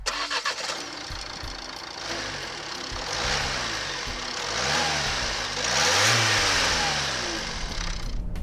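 A 2015 Nissan Qashqai 1.6 litre dCi diesel, 4x4 Tekna trim, revs hard and close, its engine note climbing and falling through several loud swells with no voices.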